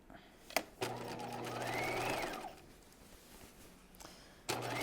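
A sewing machine stitches a raglan top near the center front neckline, giving one sustained run of fast needle chatter up close. It starts after a sharp click and is framed by more clicks, with a voice talking over the sound.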